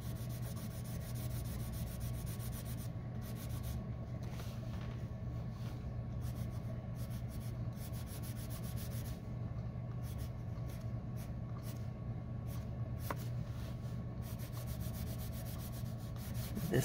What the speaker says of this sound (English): we're really going to take our white pencil back and forth through there